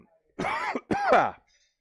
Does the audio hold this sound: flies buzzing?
no